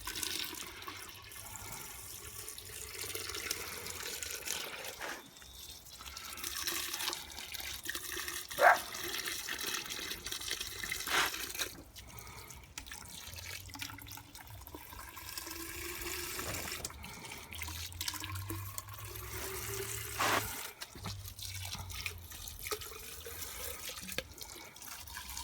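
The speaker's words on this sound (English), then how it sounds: "And I'll just fill these bottles up now." Water runs and splashes as bottles are filled from a tap for watering tomato plants, a fluctuating trickle and gush with short pauses and bottle knocks, sounding close by.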